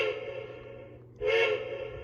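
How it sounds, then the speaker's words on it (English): A Lionel Disney World 50th Anniversary toy train set sounds its electronic whistle in two sustained, close, moderately loud toots separated by a short break. "Here comes whistle. And this is a very playable whistle. If you hold it down, it just whistles like this."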